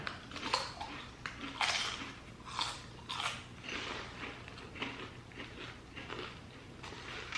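Cheddar and sour cream potato chips crunch between the teeth in close, irregular bursts of biting and chewing, each crisp snap loud against an otherwise quiet room.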